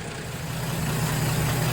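A six-cylinder Plymouth Belvedere idles after a snowy cold start with newly fitted points, giving a steady, even low rumble close by that stays smooth and continuous, with no talking.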